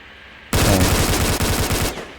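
Shotgun fire in the game Stalker: Call of Pripyat, a single loud, close blast with a sustained roaring burst lasting over a second before cutting off, heard alone with no talk.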